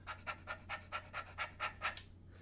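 A person imitates a panting dog, making eight or nine quick, breathy huffs at an even rhythm, close and fairly soft, over a low steady hum.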